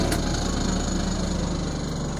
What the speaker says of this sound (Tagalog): medyo maingay lang yung ating motor kasi luma na rin to eh